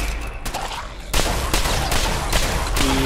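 Rapid gunfire rings out in the Fallout 4 video game as a legendary enemy is shot, sharp repeated shots over game ambience that get louder after a first second of quieter background noise.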